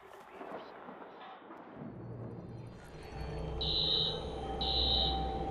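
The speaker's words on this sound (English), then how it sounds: "Alarm's been tripped." Alarm tripped in the video game Watch Dogs, a loud repeating electronic buzzer beeping in two bursts over rumbling game noise and a low background tone, after some in-game speech.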